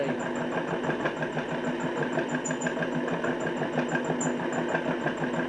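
A Nipkow disc mechanical televisor motor spins steadily while a finger brakes it to hold the speed, giving a continuous close whirr with a regular ticking pulse and faint high-pitched chirps.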